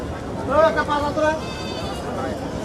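Young local Bhurani goats bleat at a busy village livestock market in Dhelapir, with several wavering bleats close together early on, then fading into the steady murmur of the crowd.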